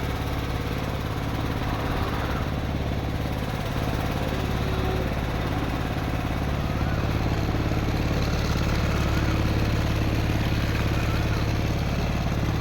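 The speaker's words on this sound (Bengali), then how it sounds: "ইঞ্জিনের আওয়াজ শুনতে পাচ্ছেন, ইঞ্জিন চলছে।" A toto auto-rickshaw engine runs steadily at a petrol pump in Kakdwip, a continuous close mechanical drone with a low hum that holds throughout.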